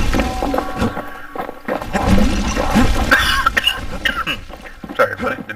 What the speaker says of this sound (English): Didn't mean to cough in your ear.